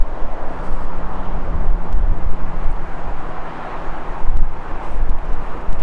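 Steady outdoor wind buffeting a microphone on a street in Porto, Portugal, a continuous low rumble with gusts swelling and easing over a few seconds, and faint distant traffic underneath.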